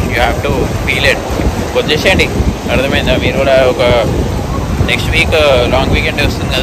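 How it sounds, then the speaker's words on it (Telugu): Ocean waves and wind at Colva beach in Goa make a constant loud roar and buffet the microphone, while a person talks continuously over the surf. "ఈ వేవ్ సౌండ్ అండ్ చల్లగాలి వస్తుంటే"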